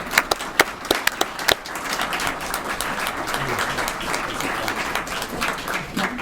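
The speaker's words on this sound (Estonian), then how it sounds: "Palun aplaus." An audience at an Estonian public transport awards ceremony breaks into applause, starting with a few scattered claps and swelling into steady, sustained clapping from a crowd.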